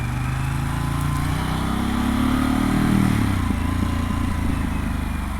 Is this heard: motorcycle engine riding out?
yes